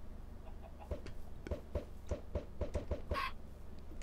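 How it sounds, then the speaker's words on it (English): Minecraft chicken heard in a video game: a quick series of short, soft clucks and clicky sounds in an irregular rhythm over a steady low hum, ending in a brief brighter squawk. "Chicken! Chicken."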